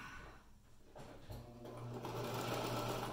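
A sewing machine runs with a fast mechanical whir that starts slower and picks up speed, fairly quiet and close, with no speech.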